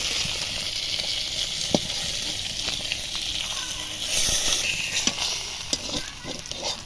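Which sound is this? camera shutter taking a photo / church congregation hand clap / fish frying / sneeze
fish frying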